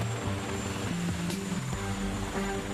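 A helicopter hovers over a bridge pylon construction site near the coast of Honshu, giving a steady, loud rotor and engine drone throughout with no speech.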